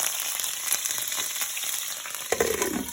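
Fresh ginger sizzles and fries in a hot pan for a cauliflower stir fry, a steady crackling hiss with a brief louder burst near the end.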